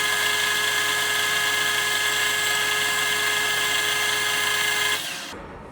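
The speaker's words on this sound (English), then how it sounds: "take the threading tool and kind of chamfer this edge back" A threading tool chamfering a metal edge on a machine, a loud, close, steady high-pitched grinding hum with fixed tones that lasts about five seconds and then winds down.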